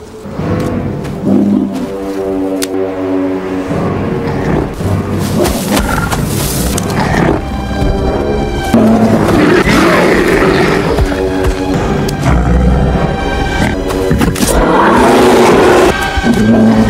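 A bear in a film roars and grunts repeatedly, loud and close, with rough growling bursts layered over a dense, rumbling soundtrack.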